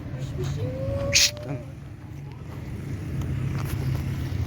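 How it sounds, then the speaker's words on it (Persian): A cat in an abandoned building gives a single brief, fairly faint meow over low background rumble. "یه گربه."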